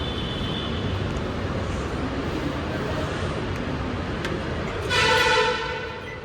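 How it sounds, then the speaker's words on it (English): A metro train's horn honks loudly near the end of a steady rumble of trains and station noise, a short bright blast that rises over the background. "Gosh, that honk was loud."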